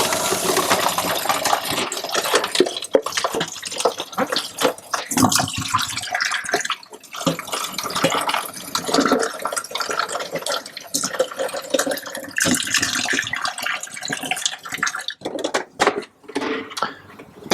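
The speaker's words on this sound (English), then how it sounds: "so now we're gonna rinse out the hatchery" Water splashing and running as a brine shrimp hatchery is rinsed out, with irregular bursts, clinks and drips close by.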